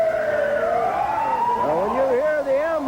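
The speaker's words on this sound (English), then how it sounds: "Now, when you hear the ambulance, you know that Bruiser Brody is on the scene" An ambulance siren wails continuously at close range at a wrestling event, its tone rising and then warbling, with crowd noise and talk underneath.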